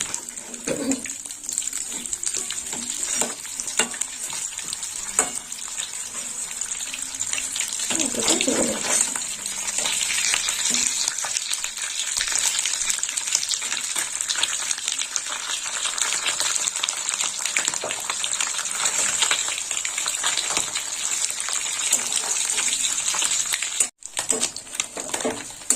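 Small mourala fish frying in hot oil in a pan, a steady bright sizzle running throughout with occasional clatter and handling noises, briefly cut off near the end.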